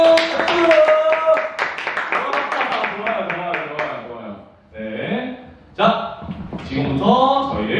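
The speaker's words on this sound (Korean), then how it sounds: "박수! 박수!" A group claps hands in quick rhythmic bursts during an online adaptive sports class run by the Incheon para-sports association, with voices and music over the clapping before it thins out.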